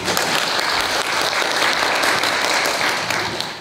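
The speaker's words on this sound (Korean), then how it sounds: "다시 한번 큰 박수 부탁드립니다" An audience at a talk on integrated care for disabled people breaks into steady, dense applause that holds evenly for a few seconds and fades near the end.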